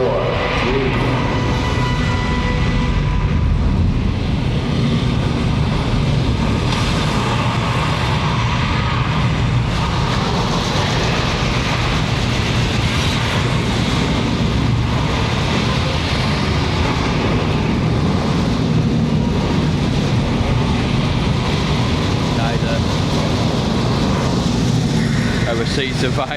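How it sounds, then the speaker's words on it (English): Simulated rocket engine ignition at Kennedy Space Center, a loud sustained broadband roar and rumble that builds and holds steadily for the whole stretch, with voices faintly present underneath. "We got ignition sequence start. The engines are on."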